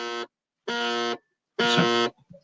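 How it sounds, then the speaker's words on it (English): An alarm buzzes in three loud, steady harsh bursts of about half a second each, separated by short silences, with a faint clatter after the last. "That's my doggy alarm going off."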